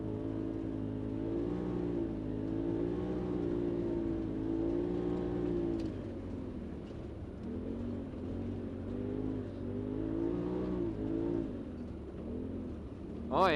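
A Polaris RZR XP 4 Turbo side-by-side crawls slowly along an off-road trail in Myra-Bellevue Park, its engine humming steadily and rising and falling gently with throttle, close and continuous.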